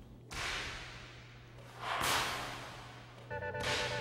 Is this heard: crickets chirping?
no